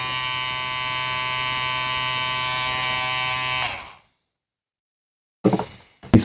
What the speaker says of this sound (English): This hair clipper is really good.